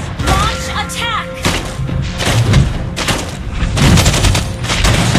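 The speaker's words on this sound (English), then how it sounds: "Try to outrun my bullets." Gunfire from Clint's attack in the Mobile Legends video game: loud, rapid bursts of shots and heavy thumps layered with game effects, arriving in dense clusters close up, with a voice speaking among them.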